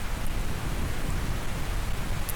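Steady rain falls in the PS1 horror game Paranormal Investigation Club, a dense, even hiss that holds at a constant level throughout with no voices over it.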